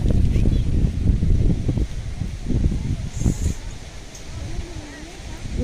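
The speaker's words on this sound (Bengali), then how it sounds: "বাতাস প্রচণ্ড পরিমাণে বাতাস" Strong wind buffeting the microphone outdoors, a loud low rumbling roar with gusts rising and falling, while people talk over it.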